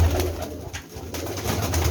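Close pigeons coo in low, throaty, repeated phrases, steady and fairly loud, with a faint hiss behind and no talk.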